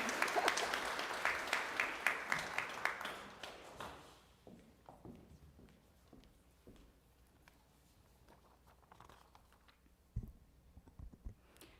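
Applause at a white coat ceremony builds briefly into a dense patter, then thins and dies away within a few seconds, followed by scattered taps, shuffling and a quiet hall.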